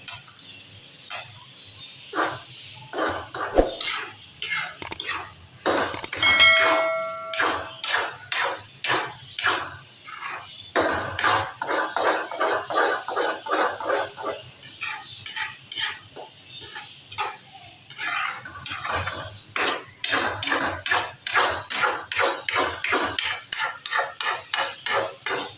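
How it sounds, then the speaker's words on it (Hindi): A spoon stirring egg khagina mixture in a pan produces rapid, steady metallic clicks and scrapes, dozens of close strokes in an even rhythm with a few brief pauses, and no talk. "इसको मुस्तकिल चम्मच हिलाते रहें, इसको बिल्कुल से बिल्कुल भी ना छोड़े"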